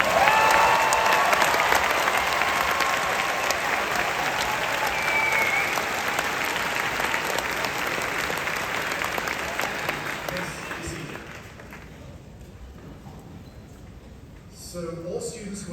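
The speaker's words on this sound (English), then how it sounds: "Please turn and face your families and applaud." Graduating students at a university convocation ceremony turn to their families and applaud, producing a loud, sustained wash of clapping from a large audience that fades toward the end, leaving quiet room noise.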